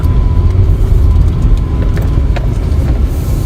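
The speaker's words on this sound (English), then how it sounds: "Yield 2 cars driving down ramp." Cars rolling down a tight spiral parking ramp, giving a steady, loud low engine and tyre rumble that fills the space throughout, with no voices.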